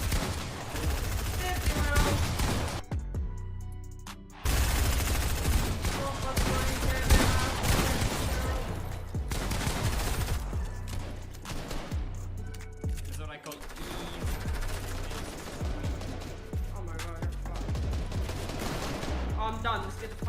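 Rapid shotgun fights in Fortnite with loud repeated blasts and clattering building and combat effects, dense and continuous, with a voice talking over parts of the action.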